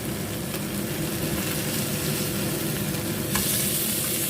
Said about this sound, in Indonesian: Jadi kita balik dulu kepala ikannya. Ini udah mulai matang.